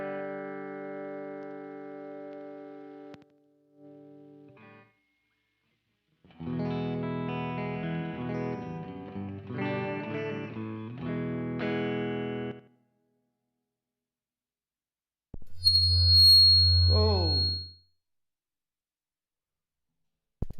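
A Telecaster electric guitar plays alone with no backing track, sustained chords and short phrases with effects and distortion, separated by silences, ending on a brighter bent passage.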